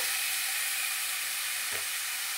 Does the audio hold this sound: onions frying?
yes